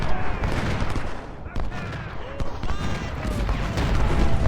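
Volleys of musket and rifle fire from Civil War troops in the strategy video game Ultimate General: Civil War, a dense, continuous crackle of gunshots with booming artillery mixed in. A voice gives orders over the battle.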